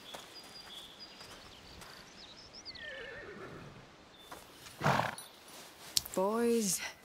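Video game horses give a loud whinny near the end, with soft clip-clop hooves and other game sounds beforehand and a brief sharp snort or neigh burst midway, while voices talk over the scene.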